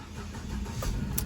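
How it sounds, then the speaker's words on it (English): A car engine cranks and catches during an ignition system voltage check, a steady low mechanical rumble at modest volume with no voice over it. "So as we cut this engine on, we will come back and we will see if that voltage increases."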